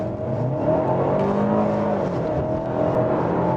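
Mercedes-Benz A250 4MATIC sedan engine pulling in sport mode, revving long through third and fourth gear, a steady close engine drone with road roar filling the cabin throughout.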